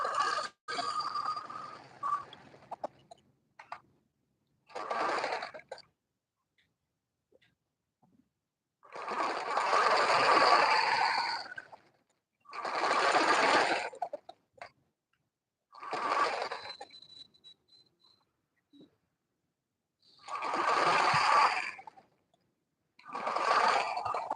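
A sewing machine stitches Ankara fabric to its lining in repeated whirring bursts of a few seconds each, separated by short quiet pauses, close and fairly loud.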